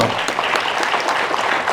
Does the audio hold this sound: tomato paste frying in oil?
no